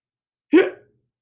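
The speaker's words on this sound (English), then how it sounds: "I still have the hiccups." One sharp hiccup pops out of silence, brief and close, and fades quickly with nothing else around it.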